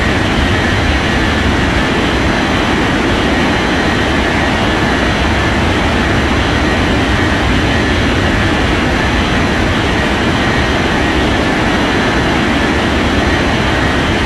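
A jet airliner taking off in an air traffic control game, a loud, steady, broadband engine roar that holds at an even level for the whole stretch with no voices over it.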